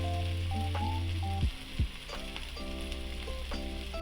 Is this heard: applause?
no